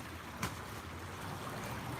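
A natural spring pouring out of a hillside outdoors: a steady, close rushing and gurgling of flowing water, continuous throughout with one brief brighter splash.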